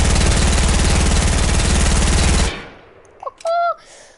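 An SMG in Fortnite fires a rapid, sustained burst for about two and a half seconds, loud and close, then stops abruptly. A few short game blips and a brief electronic tone follow.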